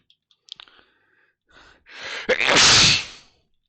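A single loud, close sneeze bursts out after a few soft clicks and a quick intake of breath, trailing into a breathy hiss.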